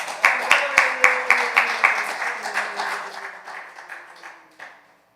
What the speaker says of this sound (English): clap it up for him, guys